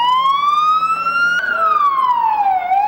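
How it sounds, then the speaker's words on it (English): A police car siren wails loud and close during a street protest, its tone sweeping up and then gliding down in long continuous arcs, with no talk over it. "Why do you think he's got a siren on?"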